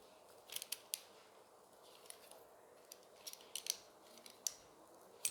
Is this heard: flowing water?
no